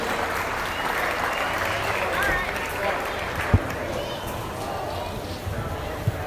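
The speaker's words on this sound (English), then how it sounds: "let's give all these kids a big round of applause as they're excused from the ring" Audience applause in an arena ring for young 4-H and FFA exhibitors as they are excused from a swine show, steady clapping throughout with a couple of sharper knocks near the end.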